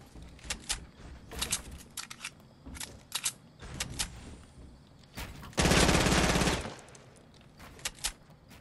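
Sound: gun firing in video game Fortnite

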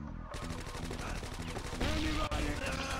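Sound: MP5 gunfire in a video game

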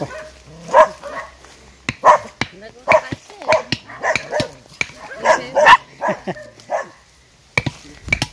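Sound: dogs barking

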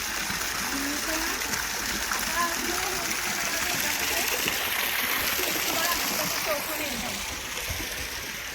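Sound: borewell water pouring and splashing

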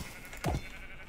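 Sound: sheep bleating in video game RLCraft (Minecraft)

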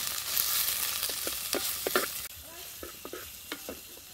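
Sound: chopped onions frying in white oil

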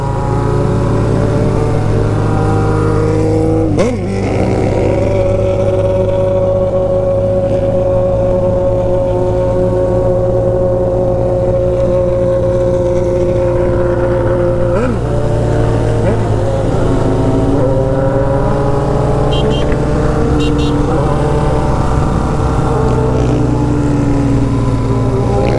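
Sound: car engine revving

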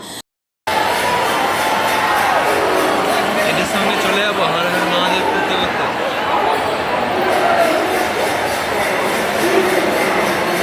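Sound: huge crowd at Howrah railway station

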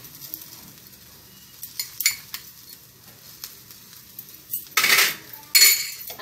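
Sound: stirring chicken biryani in a pot

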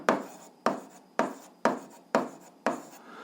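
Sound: writing equations by hand

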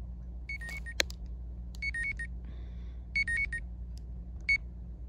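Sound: alarm going off

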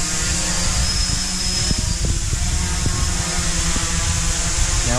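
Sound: VOXL m500 development drone flying in offboard mode

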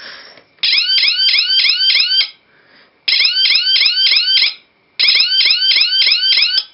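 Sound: laser tripwire alarm siren

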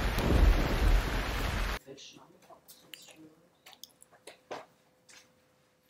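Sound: rain and thunder

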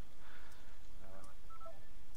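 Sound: telephone tone as the call disconnects

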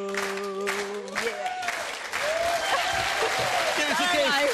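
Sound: studio audience applause

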